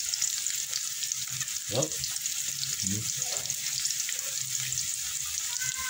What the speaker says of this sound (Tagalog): Guys, pinirate natin itlog.